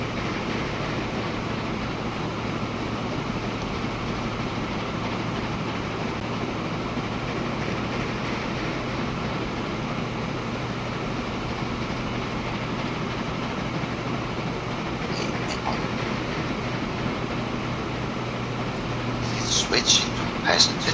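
A train runs on rails in the video game Transport Fever 2, giving a steady, continuous rolling rumble with a low hum throughout and a few brief higher clicks near the end.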